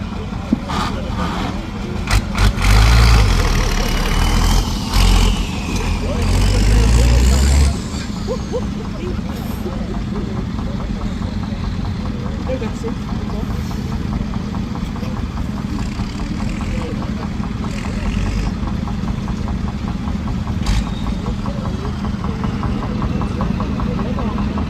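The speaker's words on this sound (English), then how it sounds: "Got David Brown 990, which is one of the earlier David Brown." A David Brown 990 tractor engine runs at a steam show, a steady mid-pitched diesel chug with a faint knocking rhythm, close by and continuous. Louder bumps and clatter come in the first few seconds, and speech is heard over it.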